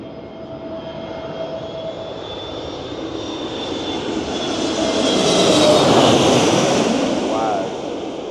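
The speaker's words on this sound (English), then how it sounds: "This is a big plane coming in." Big passenger jet coming in to land over a busy seaside spot in Lanzarote, a broad engine roar swelling louder and closer to a peak before easing as it passes overhead, with a faint high whine throughout.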